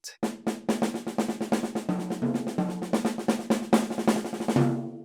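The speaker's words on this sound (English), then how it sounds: "He takes that same rub-a-dub sticking and just moves his left hand around the toms." A fast drum solo, rub-a-dub sticking with the left hand moving around several toms, dense and continuous, each hit ringing with pitched resonance before a final decay.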